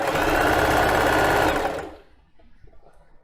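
A domestic sewing machine runs steadily at close range for about a second and a half while stitching the lining of a plus-size panty, then stops, leaving quiet room noise.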